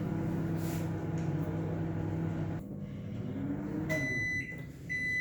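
A convection microwave hums steadily at its highest power level, a low, even drone that drops partway through, followed by several bright electronic beeps near the end.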